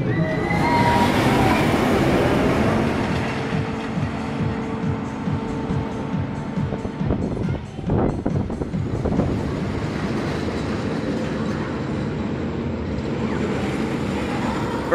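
A ride aboard the Velocity launched roller coaster at Flamingo Land, a loud continuous rumble of wheels on track with rattling cars, swelling and shifting in pitch as the train moves, with a brief dip midway.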